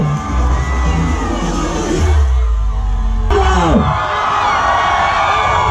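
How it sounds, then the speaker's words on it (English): A large crowd at the Rang da Barsa 2020 event in Mangalore cheers and whoops loudly and steadily for several seconds, with shouts rising above the roar and an announcer's voice mixed in. "A big round of applause for everybody!"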